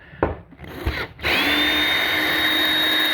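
A Ryobi Multi-Master oscillating tool cuts out a window opening at a cabin: a few clunks and scrapes, then the tool starts and holds a loud, steady high-pitched buzz.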